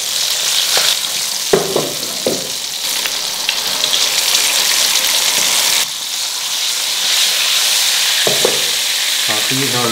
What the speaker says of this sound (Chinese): 鱼上面裹上芡粉，油温七八成热的时候下锅